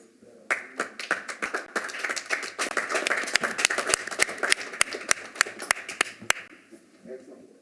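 Attendees at a Metro Community Oversight Board meeting clap for the board members. Sharp individual claps arrive in quick succession, swell into a short burst of applause and then taper off over a few seconds.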